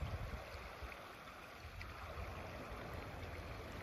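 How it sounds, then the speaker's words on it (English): Gentle ripples of water lapping outdoors in a calm natural spot, a soft steady wash of low murmuring noise with faint breezy hiss, continuous and quiet with no voices. "Calm and serene, peaceful ripples in the water."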